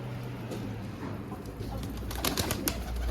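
Pigeons coo steadily amid a low rumbling background, with some soft flutters and clatter toward the end.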